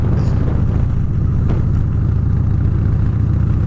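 A motorcycle engine runs steadily on a high-altitude mountain road near Huaraz in Peru's Cordillera Blanca, a constant low, throbbing drone with wind rush and no pauses.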